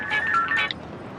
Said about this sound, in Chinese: 不用打了，电话来了。